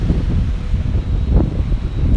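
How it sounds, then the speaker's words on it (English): Strong wind on a beach buffets the microphone in a continuous low rumbling roar with gusty fluctuations, loud and close, no speech. "it's really windy down here"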